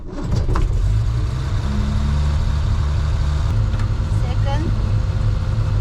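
A car engine running after repair work, a steady mid-pitched drone with some revving rising over the first seconds, heard close with a voice occasionally over it.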